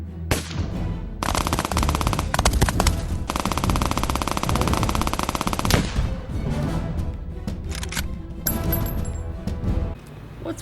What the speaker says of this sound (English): It's an imaginary epic gun battle in a public place.